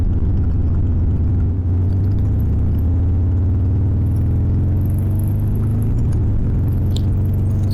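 A Harley Sportster motorcycle engine pulls steadily in fourth gear while climbing a small hill, its loud low rumble close and continuous, with wind noise on top.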